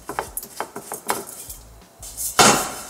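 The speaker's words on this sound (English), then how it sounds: "I want to keep moving this around in the pan so that it doesn't burn" Vermicelli being stirred and toasted in a pan, heard as a run of light metallic clinks and scrapes in quick irregular bursts, with one louder scraping sweep near the end.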